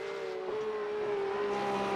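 Porsche Cup race car lapping Oulton Park in a racing video game, a steady high engine whine holding nearly constant pitch with a slight dip, loud and continuous with no talk.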